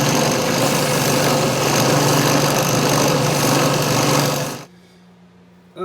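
A power grinder works close up on a bar of forged motorcycle-chain Damascus steel with a loud, steady whine and grind, then cuts off into near silence.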